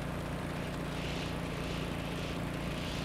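Steady, loud engine drone of a helicopter fitted with a gearbox, climbing in the video game Stormworks: Build and Rescue, a continuous rotor-and-engine hum with slow swells and no speech.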